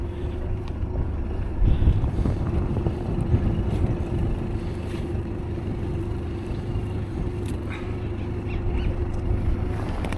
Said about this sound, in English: that wind is horrible, isn't it?